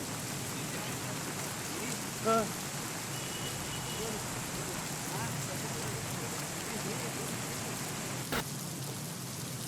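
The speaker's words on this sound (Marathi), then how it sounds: "मुसळधार पाऊस पडतो आणि ही दृश्य तुम्ही तुमच्या स्क्रीनवर पाहताय" Steady heavy rain pours down as a constant hiss, broken by a brief tonal blip and a short sharp knock.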